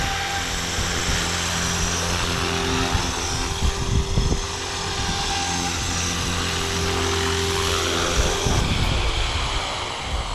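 A Blade Fusion 360 RC helicopter flies nearby, its rotor and motor giving a steady, sustained whine with harmonic tones that shift slightly in pitch, continuous throughout with no talking.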